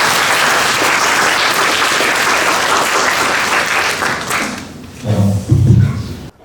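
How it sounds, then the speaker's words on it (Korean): Sustained audience applause from a lecture hall crowd welcoming a guest lecturer at a university mathematics institute talk, dense and steady for several seconds before tapering into a few louder thumps near the microphone. "따뜻한 박수로 환영해 주시죠"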